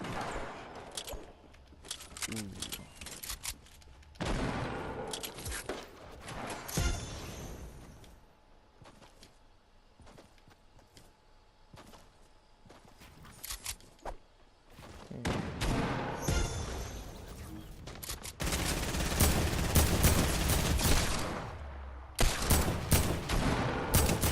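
Sniper and other gunfire in an online video game, with loud bursts of shots and fusillades that come and go across the clip, broken by quieter stretches.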